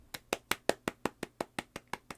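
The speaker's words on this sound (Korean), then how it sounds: "열심히 하고 있는 그 모습에 네, 박수를 보냅니다." A single person claps slowly and steadily, about a dozen crisp, evenly spaced claps close to the listener, with no talk over them.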